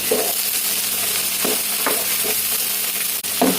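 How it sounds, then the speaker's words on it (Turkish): Tomato paste stirred and sautéed in a pan while making an eggplant börek filling, giving a loud continuous sizzle with periodic spoon scrapes and stirring knocks, close and steady, without speech. "ben salça koyuyorum. Bakın karıştıralım nasıl gelecek."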